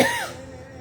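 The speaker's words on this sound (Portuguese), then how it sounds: "eu estou com um pigarro na garganta" A single short, dry cough from a man with a scratchy throat, close and fairly loud, with a brief throat-clearing rasp trailing off into near silence.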